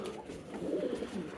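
A pigeon coos softly at close range in a low, throaty, rolling burst lasting about a second against quiet background noise.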